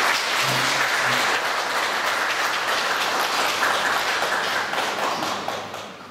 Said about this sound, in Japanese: 講師のお二人に盛大な拍手をお送りください